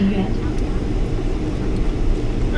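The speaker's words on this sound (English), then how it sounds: "we've made it onto the plane. We are taxiing" A steady low engine rumble and hum from an airplane taxiing on the ground in Hong Kong or Macau, constant and fairly loud, heard from inside the cabin.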